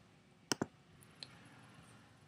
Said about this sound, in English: on the website and I'm about to click on it